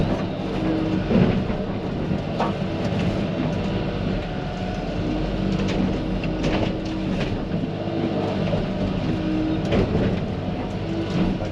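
Komatsu PC88 excavator clearing the edge of a large plot of small trees, its engine droning steadily and loudly throughout with occasional knocks and creaks from the machine and cracking wood.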